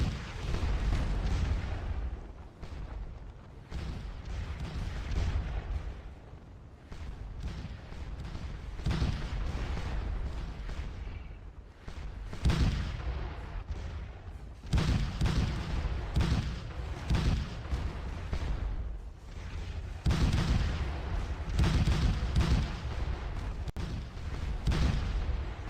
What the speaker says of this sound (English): our guns are going off really quickly now that they've all been resupplied